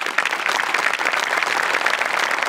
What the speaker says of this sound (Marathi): जोरदार टाळ्या